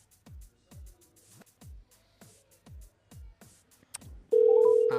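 A regular series of low knocks or thumps, then a sudden loud electronic telephone ring that sounds close and continues to the end.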